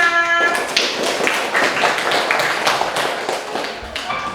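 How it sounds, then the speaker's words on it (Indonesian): Students in a classroom training session clap for a group of classmates: a burst of scattered, uneven hand claps from several people, close and fairly loud, continuing for several seconds with no talking. "beri tepuk tangan untuk kelompok 5"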